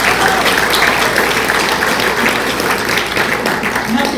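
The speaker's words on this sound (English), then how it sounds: "I would like for you to all give yourselves a round of applause." Sustained, loud applause from an audience at an Appalachian storytelling stage show, dense clapping holding steady throughout with some crowd noise mixed in.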